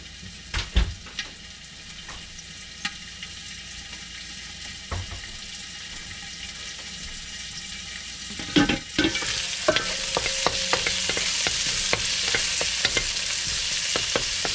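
Garlic and vegetables stir-frying in an electric wok give a steady close sizzle with a few clanks and scrapes of stirring, and the frying grows louder and brighter partway through, with no voices.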